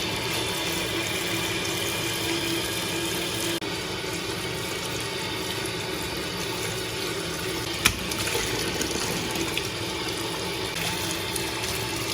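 Tap water runs steadily while vegetables for pinakbet, such as squash and winged beans, are rinsed, a constant broadband rush holding even level with a brief clatter near the end.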